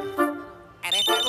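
A phone rings in a cartoon with short, bright electronic ringtone bursts, separated by a brief pause and fairly close.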